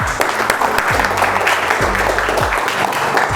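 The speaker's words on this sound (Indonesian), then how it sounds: "Beri tepuk tangan dulu buat kelompok 1." A classroom of students gives a round of applause for a discussion group, dense, close clapping that stays steady and loud for the whole stretch, with low thumps and faint voices underneath.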